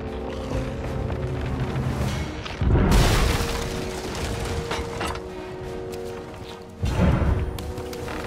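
Two heavy booming cannon blasts in Sea of Thieves, each a deep thudding explosion several seconds apart over a steady rumbling background.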